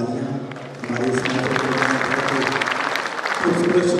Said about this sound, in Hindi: मिथिलेश जी के लिए बहुत जोरदार तालियां